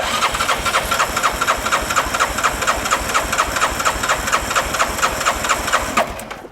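A Bennche 500 engine cranks steadily with the throttle held wide open during a compression test, with the fuel pump unhooked. The rhythmic starter-driven chugging is loud and close, runs without pause and stops abruptly at the end.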